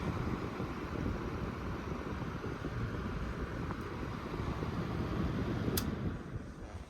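A Comfort Zone 20-inch box fan running on its low speed setting gives a steady, broad whooshing hum of moving air, even and continuous throughout, with a faint click near the end.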